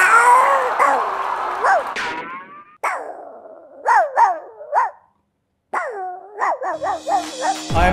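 A dog barks in a meme clip, with several sharp, loud barks in uneven bursts and a brief silent gap partway through.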